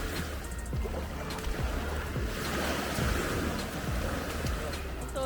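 Choppy sea off Koh Samui with waves washing and surging in a steady, broad roar, buffeted by wind noise on the microphone, while people talk faintly.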